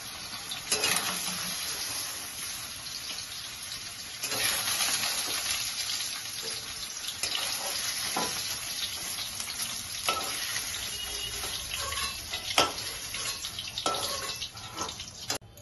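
Paneer fries in hot oil in a pan with a continuous close sizzle, broken by scattered clicks and scrapes of stirring, and no voices.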